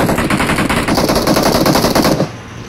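Rapid automatic M16 gunfire in the mobile game PUBG Mobile, a loud continuous burst of closely spaced shots that stops abruptly near the end.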